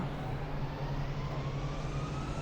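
Steady, loud roar of a jetpack flying in the mobile game Indian Bikes Driving 3D, a continuous engine-like drone with a constant low hum, with no voices over it.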